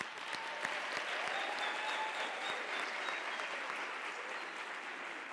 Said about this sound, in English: Can I request you to give them a round of applause?